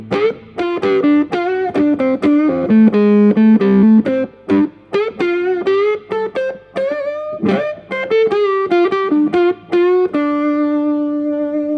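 Electric guitar with both pickups selected and tone rolled off plays with a warm, rounded, darkened tone, a series of sustained chords and single notes with a final ringing chord.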